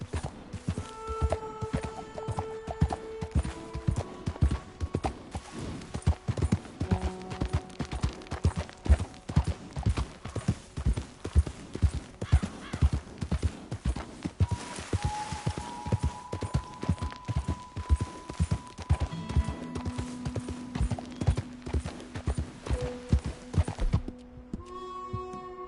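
Horse hooves clip-clopping and galloping in Red Dead Redemption 2, a steady rapid rhythm running throughout, close and fairly loud, with music tones and a brief whinny mixed in.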